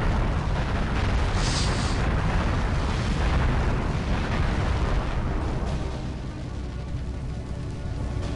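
Bomb explosion in the video game Hybrid Heaven: a loud, sustained roaring blast with dense rumbling debris that slowly thins toward the end.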